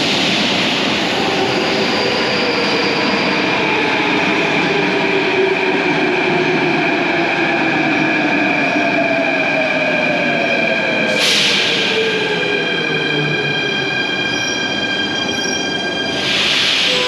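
An Athens subway train runs with a loud, continuous rumble and sustained high wheel squeal, with sharp hissing bursts partway through, close and constant.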